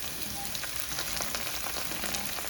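Ginger and garlic fry in a pan for Ethiopian beef tibs, giving a close, steady crackling sizzle with faint stirring ticks throughout.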